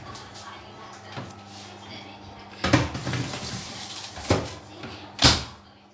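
Pizza goes into an oven: a few sharp metallic clanks and thuds from the oven door and tray, spaced a second or so apart, close by, with a voice speaking faintly between them.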